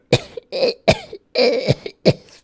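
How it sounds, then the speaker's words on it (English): A series of about six harsh coughs in quick bursts, fairly loud and close, with short pauses between them. "you hear a faint coughing"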